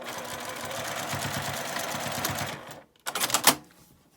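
Sewing machine back-stitching eco fur for a tote bag: a rapid, even mechanical chatter runs close and steady for a few seconds, stops, then resumes in a short louder burst.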